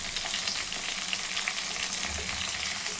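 Ginger and garlic sizzling in hot oil in a pan for sambar, a steady bright frying hiss with occasional stirring scrapes, close and alone without talk.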